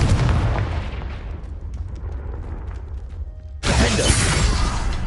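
A Confringo blast spell explodes in Hogwarts Legacy, a booming, crackling burst that rumbles and fades before a second loud, broadband blast erupts near the end.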